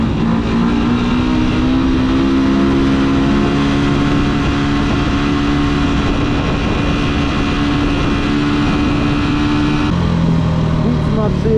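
Loud, steady Yamaha R1 motorcycle engine with throaty exhaust droning throughout, the pitch holding high then dropping near the end as the revs fall.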